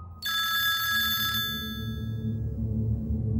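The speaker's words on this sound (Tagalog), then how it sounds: "Maya-maya, nagring ang cellphone ko." A cellphone rings with a bright electronic tone for about a second, then falls silent over a low, steady background hum.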